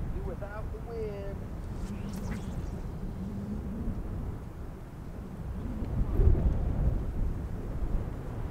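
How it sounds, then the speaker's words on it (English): Strong, relentless wind in the mountains buffets the microphone with a low continuous rumble and roar, while a voice talks faintly over it. "The wind picked up and it is relentless. It's been blowing hard"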